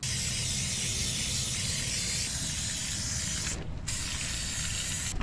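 Black Fluid Film rustproofing sprays steadily onto a 2003 Honda Element, a continuous close hiss with one brief pause near the end and no voices.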